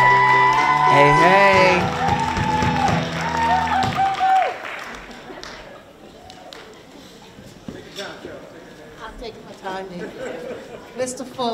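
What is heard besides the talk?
audience applause and cheering for a speaker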